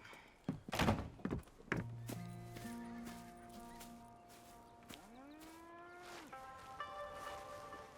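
Cows low on a farm in Red Dead Redemption 2, a long drawn-out moo rising and falling over a few seconds amid thuds and hoof clatter at moderate distance.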